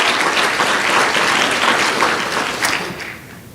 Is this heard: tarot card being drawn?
no